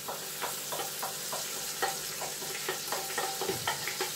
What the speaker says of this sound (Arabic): باكي قليو اللحم في الاول باش يطلق البنة تاعو